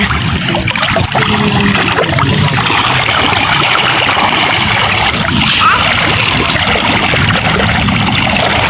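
A river flowing steadily outdoors, a broad continuous wash of water with trickling and splashing detail, loud and close throughout with no clear talk over it.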